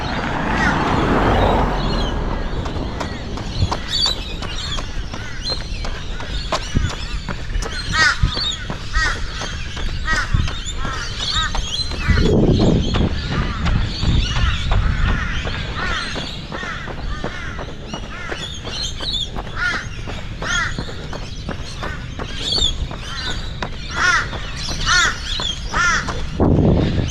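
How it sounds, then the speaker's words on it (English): A dawn chorus of Australian birds around 5:15 am calls repeatedly, with loud cawing and chattering from several birds near and far over a faint outdoor hum. "And that is the sound of birds in Australia"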